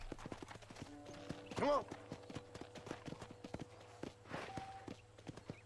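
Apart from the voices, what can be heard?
horse hooves clip-clopping while riding, from video game Red Dead Redemption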